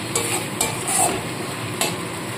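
Cumin, ginger and dried chilli paste frying with tomato in hot oil, a close steady sizzle with a few sharp spatters and stirring scrapes.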